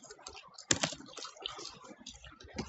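Quick bursts of keystrokes on a computer keyboard, close and fairly quiet, with one sharper clack near the start and irregular tapping after it as a web address is typed.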